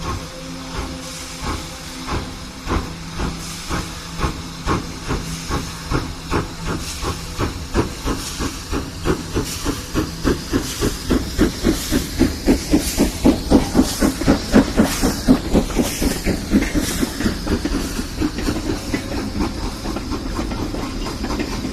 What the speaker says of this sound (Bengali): ট্রেন আবার চলতে শুরু করলো।